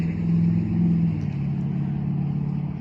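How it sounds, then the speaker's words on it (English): A loud truck engine rumbles steadily nearby on a farm, swelling then easing slightly as it passes, a continuous low drone throughout. "sorry, loud truck."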